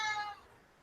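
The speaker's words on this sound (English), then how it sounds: "a cat's gonna scream" A cat lets out a single short, loud yowl that starts strong and fades quickly, heard alone with no talking.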